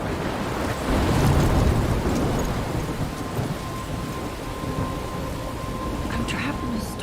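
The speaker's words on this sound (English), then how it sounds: "I'm trapped in a storm?" Thunderstorm with heavy, steady rain in Life is Strange Remastered, a broad roar of downpour with a low rumble of thunder swelling early on, continuing without a break.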